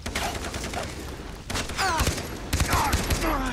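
Gunfire in the video game Far Cry 3, dense bursts of shots cracking over a loud, busy battle background, with heavier clusters of rapid fire in the second half.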